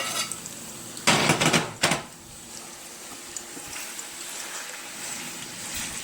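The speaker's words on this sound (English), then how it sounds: "we're going to fry them up" Chicken pieces for arroz con pollo browning in a pan give a low steady sizzle, interrupted early by a few loud clanks of a utensil against the pan, then settling into quiet frying.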